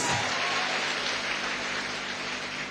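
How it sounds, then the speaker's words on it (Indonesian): Applause from a church congregation at a GKII Summit 2013 service, a dense steady wash of many hands clapping that fills the room for a few seconds without a break. "Berikan dulu tepuk tangan bagi Tuhan Yesus."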